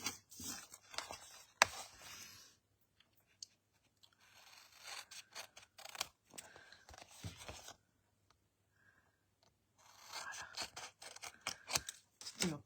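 Scissors cutting paper for album corners make close, crisp snipping bursts in several runs separated by quiet pauses, with light rustling and handling noises in between.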